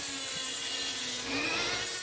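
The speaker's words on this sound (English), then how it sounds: "So I smoothed it down with a little disc." Small abrasive disc grinding down a protruding screw head on a wooden jig, a steady buzzing whir that holds for two seconds and rises slightly in pitch near the end, close and fairly loud with no talk.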